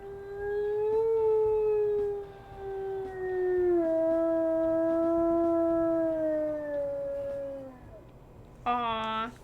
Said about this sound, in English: let's go ahead and listen to his howls here.